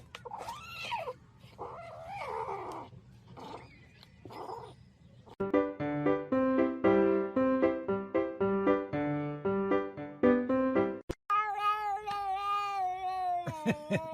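A cat gives several strained, wavering meows and yowls, loud and close, followed by a long run of pitched musical notes and a final stretch of sustained tonal calls.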